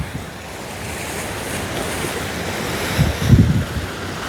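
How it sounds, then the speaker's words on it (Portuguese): Sea waves at Copacabana, Rio, heard from the fort above: a steady wash of surf mixed with wind noise, with one fuller wave surging near the end, no talk. "Esse é o mar de Copacabana visto aqui do ângulo do forte."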